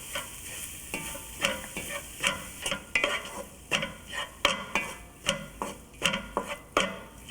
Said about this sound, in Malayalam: ഇതിലോട്ട് ബാക്കിയുള്ള കാശ്മീരി മുളക് പൊടിയും ഗരം മസാലയും ഇട്ട് വഴറ്റുക